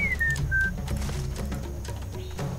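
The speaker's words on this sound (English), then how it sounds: "So now the whistling's going on." In the Sam & Max Beyond Time and Space video game, a high whistling tone glides downward at the start inside an ancient cave scene. Soft ambient tones and a few light taps follow, with no talking.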